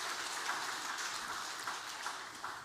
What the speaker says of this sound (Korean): 찬양으로 영광을 돌리는 우리 시온 찬양대를 위해서도 박수 한번 해주시죠.